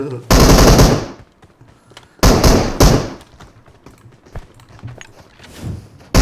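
Bursts of automatic gunfire from the mobile battle-royale game PUBG Mobile, in its ocean mode: two loud, dense volleys followed by scattered fainter shots and a last burst at the end.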